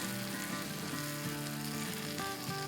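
Okra simmering and frying under a lid in a pan for a bhindi aloo dish with potatoes, a steady close sizzle with soft crackle and low humming tones throughout.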